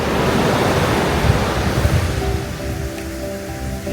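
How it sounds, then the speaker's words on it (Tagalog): Strong ocean waves break at the beach in Pagudpud, a loud continuous roar of surf with wind buffeting the microphone and no voices. "Malakas yung alon."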